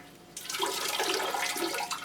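Water pours and splashes steadily as a resting dendrobium orchid plant gets a soak, a loud continuous rushing gush starting abruptly and running without pause.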